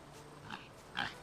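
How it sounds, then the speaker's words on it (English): Pig in the video game Jade Empire: two short, soft grunting oinks about half a second apart, faint and close, with no talking. "Look at the pig. He oinks!"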